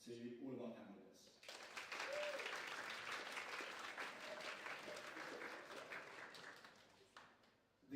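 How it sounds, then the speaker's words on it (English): An audience at a student guild officer election results night gives a full round of applause for the candidates, sustained dense clapping that swells, then tapers off, following a brief spoken announcement. "can we please give another round of applause to all of our candidates"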